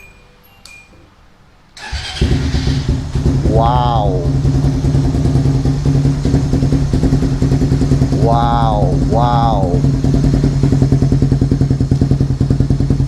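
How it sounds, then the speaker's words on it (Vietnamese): A big motorcycle fitted with a Yoshimura exhaust fires up after a quiet start, then idles and revs loudly with two sharp throttle blips, while a person briefly exclaims over it. "bây giờ mình sẽ nổ máy lên, mình cho anh em nghe thử cái âm thanh Yoshimura"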